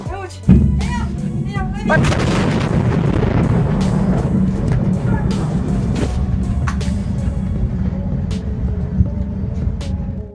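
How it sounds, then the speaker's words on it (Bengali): A sudden loud explosion bursts in near the start, then rolls into a sustained heavy rumbling roar that slowly fades, with scattered sharp cracks and pops sounding through it. "প্রথম বিস্ফোরণের প্রায় ৩৩ সেকেন্ড পর ঘটেছিল আরও একটি ভয়াবহ বিস্ফোরণ"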